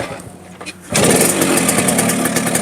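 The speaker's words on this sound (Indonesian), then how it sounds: "Mesinnya lumayan halus, RPM-nya masih jalan mas ini." A used motorcycle engine, checked at a vehicle sale, catches after a quiet moment and settles into a steady, fairly smooth idle with a fast even beat, close and loud, no voices.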